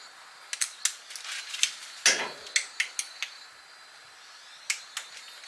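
A ratcheting socket wrench tightens the bolts on a water pump, giving about a dozen sharp, close clicks in short irregular bursts with brief pauses between them.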